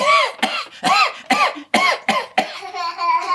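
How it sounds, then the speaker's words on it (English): A series of sharp, harsh coughs in quick succession, close and loud, about six bursts with brief gaps, ending in a raspy exhale. "you just coughed right in my face"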